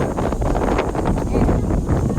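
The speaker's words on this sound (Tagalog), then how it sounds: "grabe yung hangin dito" Loud wind buffets the microphone at an airfield in a continuous rough rush, gusting unevenly throughout the short stretch.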